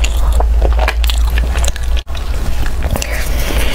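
Crunchy bites and chewing of chocolate chip cookies at close range, with repeated crackly bites and mouth sounds, loud and continuous apart from a brief gap.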